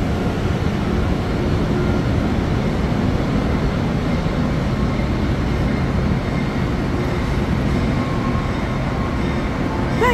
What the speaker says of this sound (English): This is our locomotive, guys.